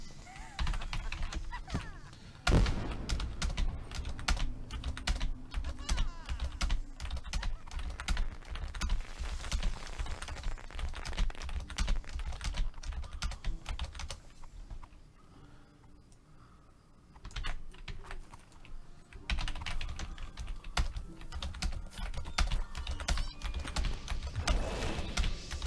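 Dense rapid typing on a computer keyboard, close and continuous clatter of keystrokes with a brief quieter pause partway through, then resuming at the same busy pace.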